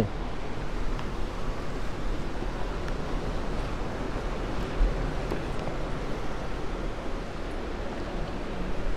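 Steady broadband rush of sea surf at night on Myrtle Beach mixed with wind buffeting the microphone, continuous with no clear breaks and no voices.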